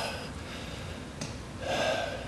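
A person draws in a sudden, audible breath after holding it for two minutes, a short gasp standing out against a steady hiss of background noise, faint and close, with no talk.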